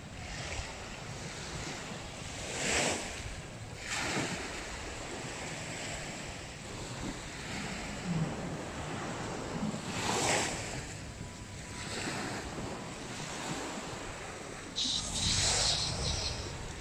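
Sea waves washing onto a beach at Na Jomtien, Thailand, with recurring surges of surf rolling in every few seconds over steady wind buffeting the microphone, no clear speech.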